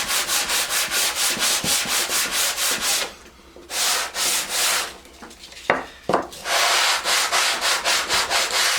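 A wooden board is sanded by hand with steady back-and-forth strokes, a close rhythmic rasping that pauses briefly, picks up with a few bumps and knocks, then resumes its even scraping.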